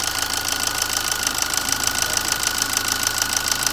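A car engine idles steadily as its air-conditioning compressor engages, giving a constant mechanical drone with a fast rhythmic ticking and no voices.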